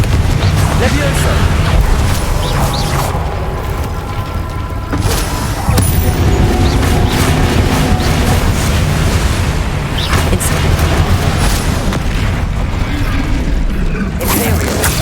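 Blasting-curse explosions from the Hogwarts Legacy video game boom repeatedly in dense, loud game combat, a sharp burst near the middle and another near the end, with a voice calling out spells over the din.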